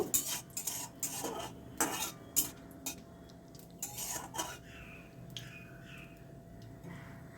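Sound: dried chili and radhuni tempering being fried and stirred in pan

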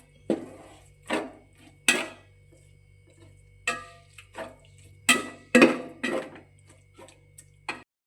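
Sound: stirring vinegar into fish pickle masala in a pot

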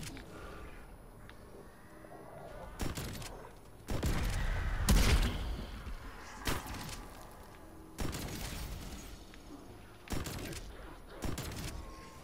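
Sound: shotgun firing in a video game

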